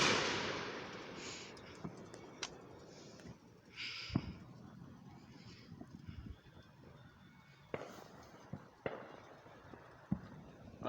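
Fourth of July fireworks going off at a distance in hilly country, heard as scattered faint pops and cracks at irregular intervals over quiet outdoor ambience.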